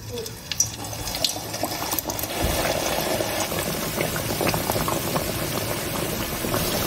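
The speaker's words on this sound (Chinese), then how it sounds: "锅里面多倒点油，油温6成热，筷子能冒泡的时候，把饼胚放进来炸" Hollow potato cakes deep-fry in plenty of hot oil in a wok, a steady close bubbling fizz that swells a few seconds in and keeps up throughout.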